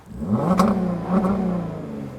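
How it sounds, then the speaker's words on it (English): A Volkswagen Atlas VR6 engine with a B2B Fab Wookiepipe exhaust revs up twice in quick succession, the exhaust roaring deep and close before settling into a throaty rumble. "I didn't know mom cars could sound so good."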